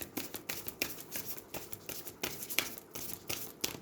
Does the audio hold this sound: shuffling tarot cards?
yes